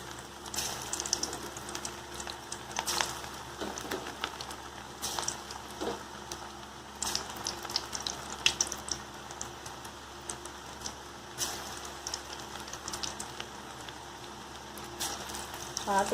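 Split pigeon pea lentil vada, rolled into small balls, sizzling and crackling steadily in hot oil, a dense continuous spatter with scattered sharper pops throughout.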